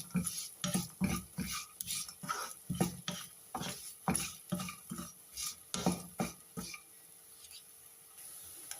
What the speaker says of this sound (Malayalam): തേങ്ങ ഇട്ട് കൊടുത്തതിന് ശേഷം നന്നായിട്ടൊന്ന് ഇളക്കാം